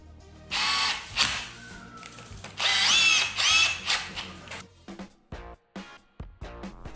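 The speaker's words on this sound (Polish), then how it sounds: "takimi wkrętami przykręcam element montażowy do sufitu" A cordless drill whirs in two bursts, driving screws through a light fixture mounting bracket into the ceiling, followed by clicks, rattles and short knocks of handling close by.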